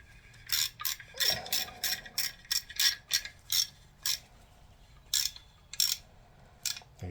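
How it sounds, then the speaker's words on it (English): Bolts on an LS 5.3 engine build being hand-tightened with a ratchet before torquing, a close series of quick metallic ratcheting clicks in short irregular bursts with brief pauses between them. "This just gets torqued down at 9 foot-pounds, so I'm going to get these just wrist tight"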